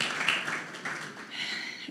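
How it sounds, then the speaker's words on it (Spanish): A short burst of audience applause at a Latin American education and resilience panel event, a dense patter of clapping that holds steady for a couple of seconds. "Aplauso ahí de nuevo"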